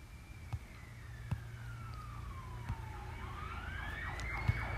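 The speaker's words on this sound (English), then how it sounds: "an ambulance just drove past, and I don't know if you have been able to hear that or not." An ambulance siren wails as the vehicle drives past, its pitch sweeping down and then rising again as it goes by, heard at a moderate distance over steady background noise with a few faint knocks.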